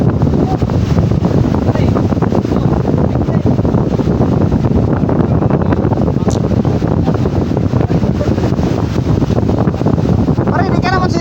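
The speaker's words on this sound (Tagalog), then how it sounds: "Malakas ang hangin" Strong wind buffets a boat on the water in rough weather, a loud, steady roar of gusts and wind noise on the microphone that fills the whole stretch, with someone talking faintly underneath.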